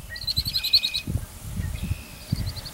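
Birds chirp near a cabin porch by a farm pond where robins nest, giving quick repeated high tweets in short bursts over soft low thumps and rustling.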